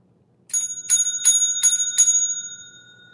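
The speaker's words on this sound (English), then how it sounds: "It's our first bell ring of the night." During a trivia game, a small bright bell is rung five times in quick, even succession, each strike clear and ringing with a lingering shimmer that fades after the last.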